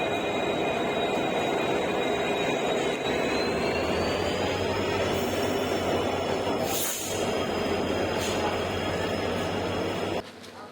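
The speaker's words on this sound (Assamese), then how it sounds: "এতিয়া ট্ৰেইন আৰু আহি আছে" A train from Silchar pulls into Badarpur station, a loud sustained engine drone with a rising whine and steady rumble, near and continuous, with a few sharp bursts near the end and a sudden drop.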